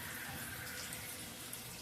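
Shower water pours steadily over a baby's face as the child is moved from bath to shower, a constant close hiss of running water with no break.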